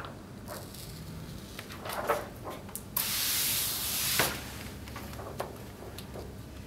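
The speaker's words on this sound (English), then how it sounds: "we're going to continually spray it with water on the adhesive." Soft hissing spray bursts of water onto optically clear film adhesive over a quiet background, with one sustained spray lasting over a second among shorter intermittent spritzes and light rubbing.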